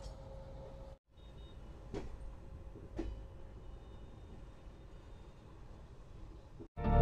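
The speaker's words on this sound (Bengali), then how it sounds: "এখন সাতটা পঞ্চান্ন ট্রেন ঢুকছে দিনদয়াল উপাধ্যায় জংশন" Netaji Express (Kalka Mail) rolling into Deen Dayal Upadhyaya Junction, heard from onboard as a steady low rumble of wheels on track with a couple of sharp clanks and a brief drop near the start.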